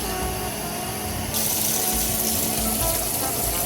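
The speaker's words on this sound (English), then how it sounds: "as we added the water in" Water pours into a pot of spinach and chicken Rice A Roni as a steady, fairly loud rushing splash that grows stronger partway through and runs without speech.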